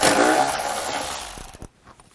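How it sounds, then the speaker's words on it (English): A Snap-on rethreading tap is worked through a rough bolt hole on a 1996 Mystic Cobra Mustang: a loud, steady metallic grinding whoosh, then a few quick ratcheting clicks before it goes quiet. "Nope, we're gonna run a tap through that."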